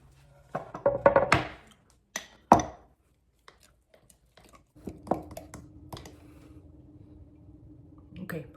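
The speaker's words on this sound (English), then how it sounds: "Mix up whatever flour that is there." Flour and water for a sourdough starter being mixed, a few close wet squishing and scraping strokes followed by quieter soft stirring and a faint steady hum.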